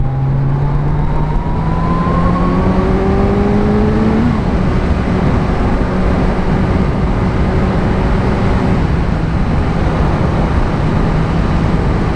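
A 2017 Kawasaki Z900 motorcycle on a test ride, its engine pulling with a rising tone, then steadying into a constant drone under heavy wind rush, loud and continuous with no talk.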